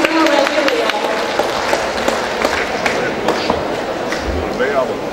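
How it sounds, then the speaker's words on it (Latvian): An audience in a large hall applauds with dense, steady clapping, a few voices mixed in under the clatter. "Un aplausi, protams"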